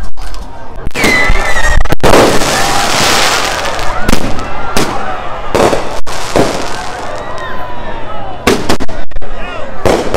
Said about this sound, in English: throwing fireworks